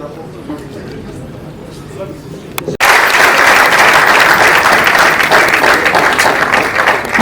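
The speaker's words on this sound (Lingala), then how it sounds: "Les applaudissements, c'est d'abord parce que vous faites très bien les choses." Applause at a press conference, bursting in suddenly after a quieter stretch with voices, then dense sustained clapping from a crowd to the end.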